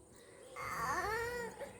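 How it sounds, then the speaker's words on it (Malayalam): Cat gives a single drawn-out meow, close and clear over a low background hum. "ഓ ശല്യം ചെയ്ത പൂച്ച നമ്മളെ."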